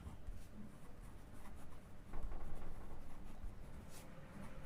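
Quiet, steady scratching as coordinates are written out on a board during a maths lesson, with a continuous rubbing texture and no talk over it.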